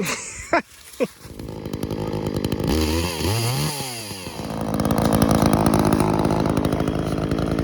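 A chainsaw cuts down a tree outdoors on cleared ground, loud and steady with revving surges, after two sharp knocks at the start; no one talks over it.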